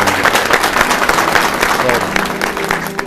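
An audience at a business association visit in Mersin applauds in a continuous, fairly loud wash of clapping, with a voice talking over it.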